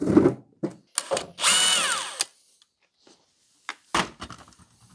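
Power drill or driver removing screws from the cover of a Yixiang MB56 battery pack: several short bursts and one longer whirring run, with small clicks and handling noises between, close and alone.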